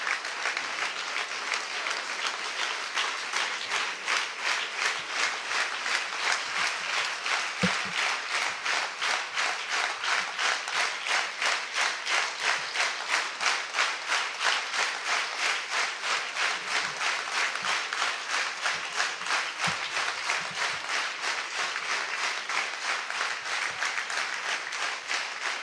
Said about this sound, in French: mais vous pouvez continuer à applaudir